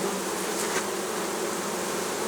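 Honey bees swarm over a brood frame holding brood and honey, taken from a frameless log hive. A dense, steady, loud buzzing fills the whole moment, close by, with no voices.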